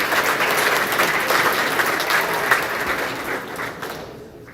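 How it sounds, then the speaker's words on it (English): A crowd at a 2023 sports awards ceremony applauds athletes, a dense and even wash of clapping that holds steady for several seconds and then fades out at the end. "So give yourself a round of applause."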